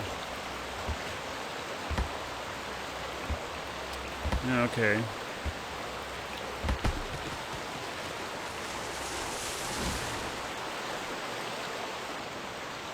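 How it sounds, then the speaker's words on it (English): Loud, steady rushing water from the video game Shroud of the Avatar fills the whole stretch as a constant broadband wash, with brief speech and a few sharp game sounds over it. "The water is so loud, I tell you."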